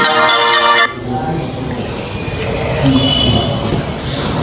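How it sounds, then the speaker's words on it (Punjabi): A phone rings with an incoming call, a short tonal, repeating ringtone for under a second before it cuts off, leaving a busy room-like background with muffled voices and movement. "ਐਮਐਲਏ ਸਾਹਿਬ ਦਾ ਫੇਰ ਫੋਨ ਆ ਗਿਆ"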